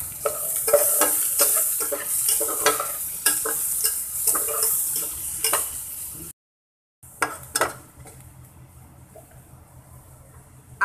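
Prawns fry in a pan for bhuna, with a bright continuous sizzle and repeated scraping stirs up close, then a sudden gap of silence before quieter sizzling and a few more stirring clatters resume.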